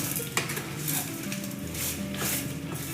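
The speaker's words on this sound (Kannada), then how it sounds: "ಮತ್ತೆ ತಿರುಗಿಸ್ಕೋಬೇಕು" A spoon scrapes and stirs chilli chicken in a pan over a steady sizzle, with a few clinks of metal against the pan.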